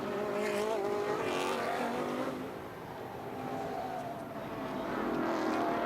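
Race cars in a round of the Pirelli World Challenge at the Belle Isle Grand Prix drive through traffic into turn 1, their engines making a steady, loud, overlapping drone that swells and eases slightly as they pass.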